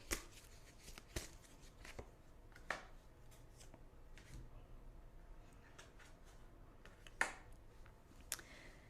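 Tarot cards are handled and shuffled close by, with sparse sharp slaps and riffles over a quiet room background.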